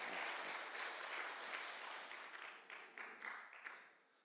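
A congregation applauds at an Easter dawn worship service in Gangseo, producing a steady, fairly distant wash of clapping that thins into separate claps and fades out at the end.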